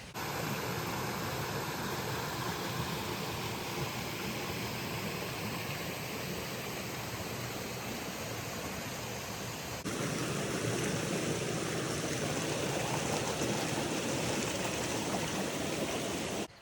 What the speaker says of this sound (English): it looks like I'm coming up on a really pretty creek